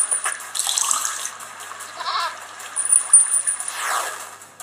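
Water running from a tap in a video game, a soft splashing trickle that comes and goes, with chimes and other game effects scattered around it.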